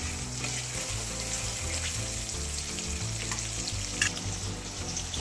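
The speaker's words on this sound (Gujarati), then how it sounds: "આ બધું આપણે સરસ રીતે સતળાઈ ગયું છે." Soya wadi curry with green garlic sautéing in a pan, a steady close sizzle and crackle of frying that runs unbroken throughout, with faint clinks of stirring.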